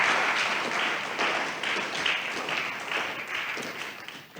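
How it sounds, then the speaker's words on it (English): An audience at the 2024 Ghana Academy of Arts and Sciences Public Forum applauds its chair, giving a sustained, moderately loud round of many hands clapping that gradually thins toward the end. "Please, a round of applause for our chair."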